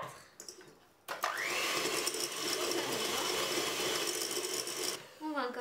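An electric mixer beats cake batter with sugar, a loud buzzing whir that starts abruptly and runs steadily for about four seconds before cutting off, with a short clatter afterward.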